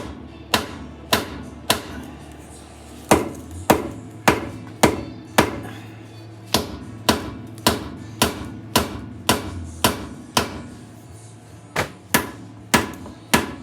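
Repeated hammer blows strike the drain plug on a 1999 Jeep Cherokee XJ front differential, about two dozen sharp metallic knocks in a steady, slightly uneven rhythm, close and loud with no talking.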